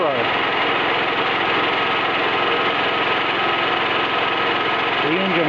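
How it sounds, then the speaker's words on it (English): A Gas-O-Matix9000 generator engine runs under an electrical load, giving a loud, steady, continuous drone that holds even throughout. "The engine goes faster when I do that."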